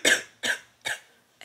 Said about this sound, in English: I also have a cough.